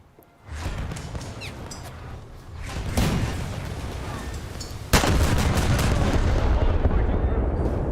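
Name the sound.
warship guns firing in World of Warships video game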